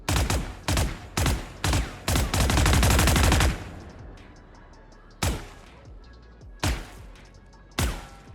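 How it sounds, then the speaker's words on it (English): Gunfire in the video game Valorant: a few sharp separate shots, then a sustained rapid burst, followed by single loud shots spaced a second or more apart, each trailing off into a short echo. "See how it reacts to the shooting?"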